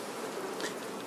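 Honey bees buzz steadily at an open beehive with honey supers, a dense, continuous droning hum from many insects close by, with no one talking.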